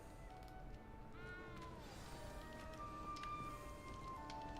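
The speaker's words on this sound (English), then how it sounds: "You don't need to be frightened, little cat." A frightened little cat in the video game Hogwarts Legacy gives a couple of thin, rising meows over quiet ambient game background.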